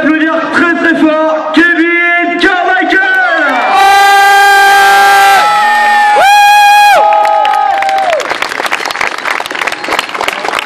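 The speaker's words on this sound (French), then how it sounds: "merci d'applaudir très très fort" At a motorcycle show in Saint-Pierre-sur-Dives, loud crowd cheering and shouting swells with long sustained tonal cries and whoops, applause running beneath throughout.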